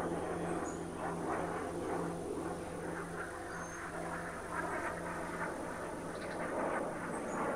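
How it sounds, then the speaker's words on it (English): Azrael drones in Ghost Recon Breakpoint drone overhead with a steady propeller-like buzz and hum, moderately loud and continuous, no voices heard. "These Azrael drones are so annoying."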